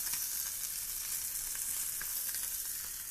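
Beef short ribs sear in a hot pan, giving a constant bright sizzle and crackle that stays even and fairly close throughout with no talking.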